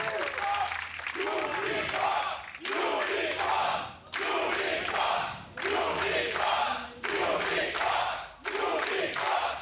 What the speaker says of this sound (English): I think we know who the crowd's supporting here, Spawn.